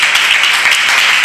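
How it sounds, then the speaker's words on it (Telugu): A church congregation claps hard and fast together in a dense, loud burst of applause during a special worship service. "గట్టిగా చప్పట్లు కొట్టండి"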